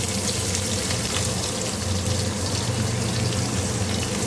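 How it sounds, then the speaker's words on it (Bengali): Chopped onion fries in hot oil with whole garam masala and bay leaf for a chicken curry, giving a loud, steady, close sizzle with no pause and no voices. "পেঁয়াজটা সুন্দর করে কষিয়ে নেবো যতক্ষণ না হালকা ব্রাউন হয়ে যাচ্ছে"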